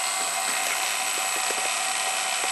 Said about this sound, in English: The gas is actually coming from this nozzle